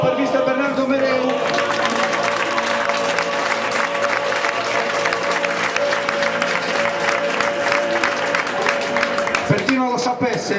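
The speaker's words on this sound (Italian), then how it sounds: "Un applauso per mister Bernardo Mereu." Applause and some cheering from a crowd at the closing ceremony of a football summer camp, steady and fairly loud over a background music bed, with voices mixed in.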